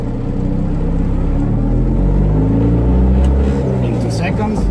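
A car engine revs up and down in steady swells as gears are shifted through a constant mesh gearbox with double clutching, droning loudly and continuously close by.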